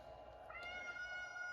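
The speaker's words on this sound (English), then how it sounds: "And sorry about my cat, Nitro." A domestic cat gives a single short, faint meow with a rising, drawn-out tonal cry, heard alone.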